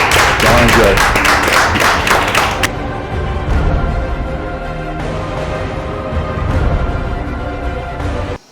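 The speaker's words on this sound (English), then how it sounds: "Let's clap it up for Miss Salaam." An audience claps for the weekly chop champion, loud dense applause for the first couple of seconds before it cuts off abruptly, leaving quieter room sound and scattered taps.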